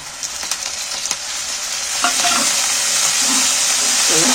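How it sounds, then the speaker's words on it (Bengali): Blended tomato juice poured over fried onion, ginger and garlic bursts into a loud hiss that swells midway, with spoon stirring and scraping against the pan throughout, no voices. "টমেটোটা ভালো করে ভেজে নিতে হবে, নাহলে কাঁচা গন্ধ ছাড়বে।"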